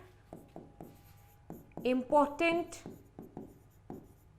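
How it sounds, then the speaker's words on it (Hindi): Marker or chalk tapping and scraping on a board in a biology classroom lecture, a series of short crisp strokes at an uneven rhythm, with someone speaking briefly in the middle. "ऐसे लिख देते हैं"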